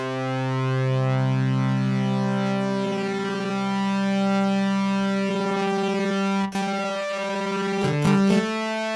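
Sustained synth tone on middle C with a pitch shifter layering in a perfect fifth, the harmony shifting as the effect sweeps, smooth and loud, ending in a few brief glitchy stutters.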